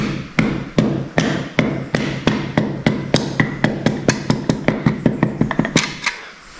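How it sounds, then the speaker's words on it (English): A hammer's wooden end taps a piston into a John Deere engine block during a rebuild: a steady run of about twenty-five sharp, even knocks, close and loud, speeding up slightly before stopping. "Rubber, not rubber, wooden end of the hammer,"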